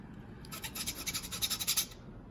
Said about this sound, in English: Even give it a little more of a grind down here.